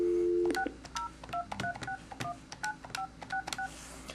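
Keypad tones from a Mitel 6900 series desk phone, roughly a dozen short dual-tone beeps in an uneven rhythm after a brief steady tone, close and clear with no talking.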